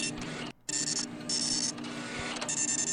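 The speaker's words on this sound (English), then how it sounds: "Miss Blemmings says that the printer is too loud." Loud printer running nearby, a steady mechanical whir and clatter with a high, hissing feed noise that drops out briefly and then resumes, continuing without a pause to the end.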